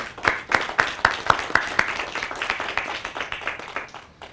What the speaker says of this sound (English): that also deserves a round of applause